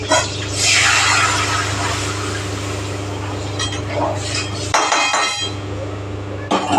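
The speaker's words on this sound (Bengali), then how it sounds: "চলো, ডালটা এখন ঢেলে দিই।" Dal and lentils are poured into a cooking pot, a steady wet pouring and splashing rush with a few glassy clinks, over a constant low kitchen hum and a brief break near the end.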